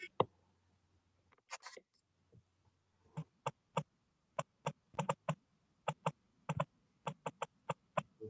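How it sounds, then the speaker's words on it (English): Someone types on a computer keyboard during an online literature class, tapping out short bursts of crisp, separate clicks with brief pauses, all under a faint low hum. "Typing something."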